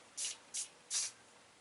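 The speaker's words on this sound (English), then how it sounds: "And then I can hold the skewer while I spray the weed." A spray bottle squirts weed killer onto a weed at the base, giving three short, crisp hissing bursts close by with brief pauses between them.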